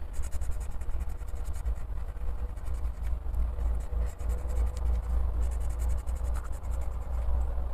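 Colored pencils scratch steadily across a coloring book page, a continuous close, dry scraping texture that runs without pause and with no talking.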